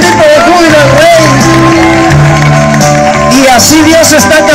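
A church congregation shouting in joy, loud overlapping voices and whoops mixed with sustained sung or cried tones, filling the space continuously.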